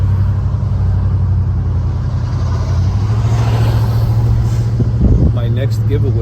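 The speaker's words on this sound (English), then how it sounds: "We're riding the old school box Chevy." Interior drone of a 1985 Chevy Caprice Landau coupe cruising, a steady low engine hum and road rumble throughout, with a short bump near the end and a voice talking over the close, continuous noise.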